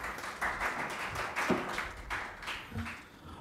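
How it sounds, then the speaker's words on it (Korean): Audience applause at a Korean panel discussion on political-economic collusion, following introductions of the panelists; moderately loud, uneven clapping with a few sharper isolated claps, steady throughout. "큰 박수 부탁드리겠습니다"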